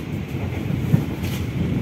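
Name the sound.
Lodaya passenger train interior while riding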